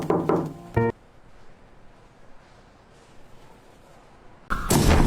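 Loud knocks on a door at the start and again at the end, separated by a quiet stretch with only a faint low background.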